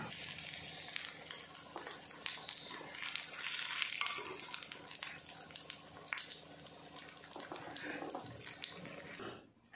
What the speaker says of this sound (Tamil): ஃபஸ்ட்டு இப்போ பன்னீர் எல்லாத்தையுமே பொரித்து எடுத்துக்கலாம்.